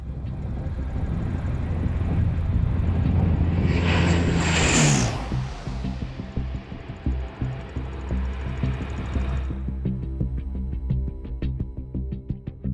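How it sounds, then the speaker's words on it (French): A 50-tonne military transport airplane lands on an improvised desert airstrip at about 200 km/h, its loud propeller engine roar swelling and peaking near touchdown, then settling into a lower rumble with rattling and mechanical clatter. "Pour faire atterrir un avion de 50 tonnes à 200 km/h, pas de place pour l'improvisation."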